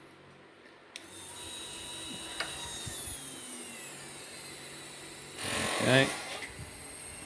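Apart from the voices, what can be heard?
actuator moving Skutter robot arm up and down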